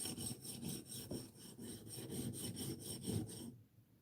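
A knife blade is thinned on an SATC sharpener with rhythmic back-and-forth grinding strokes, close and steady, stopping abruptly just before the end.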